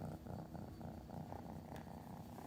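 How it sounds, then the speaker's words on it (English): A tiny kitten purrs loudly and steadily up close, a continuous rhythmic rumble with no other sounds over it. "you got a big purr"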